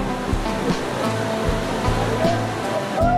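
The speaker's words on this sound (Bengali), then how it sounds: "পিছনে কাঞ্চনজঙ্ঘা ফলস, অনেক উপর থেকে প্রচুর জল পড়ছে" Kanchenjunga Falls near Pelling, a large volume of water dropping from a great height, heard as a loud continuous roaring rush that fills the whole clip, close by.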